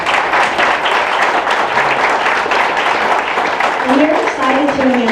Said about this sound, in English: Let's give him a round of applause for that.